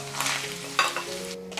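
Pork intestines hit hot oil in a clay pot with ginger and garlic, giving a close, loud sizzle with stirring scrapes and a sharp burst as the pieces go in.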